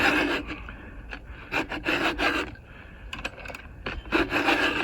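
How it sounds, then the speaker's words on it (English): Hand file strokes sharpening the cutting teeth of a Stihl 441 chainsaw, a steady series of close, rasping scrapes in uneven bursts with short pauses between them. "I don't count my strokes when I sharpen."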